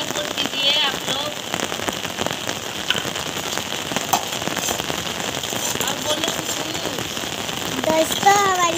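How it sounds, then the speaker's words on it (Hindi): Heavy rain pours steadily, a dense hiss of drops hitting hard surfaces with a few sharper pops and splashes, continuous and close throughout. "ये देखिए बारिश हो रहा है, बहुत तेज हो रहा है बारिश।"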